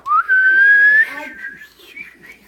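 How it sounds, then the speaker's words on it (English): A single person whistles a clear rising then held note, close and loud, tailing off into a softer wavering whistle, at a family Christmas visit with Santa. "Some join with a whistle."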